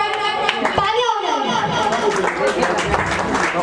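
Audience clapping at a cover music event in Paschim Vihar, a lively round of applause with some chatter and children's voices mixed in.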